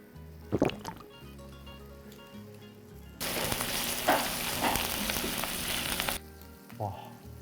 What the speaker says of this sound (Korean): 고기에 대한 설명은 들었으니까 구워보도록 하겠습니다